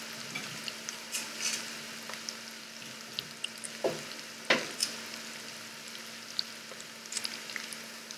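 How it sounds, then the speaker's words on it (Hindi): Gola kababs fry in hot oil with a faint, continuous sizzle broken by a few sharp pops and utensil clicks, quiet and close, no talking. "ये फ्राई हो गए हैं"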